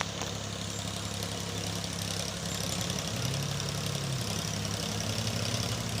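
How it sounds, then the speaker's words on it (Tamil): A steady, low tractor engine rumble runs throughout as it ploughs a field, working at a constant pace with a faint rattling vibration on top. "டிராக்டர் வச்சு அடிக்கிறாங்க அந்த பக்கம்"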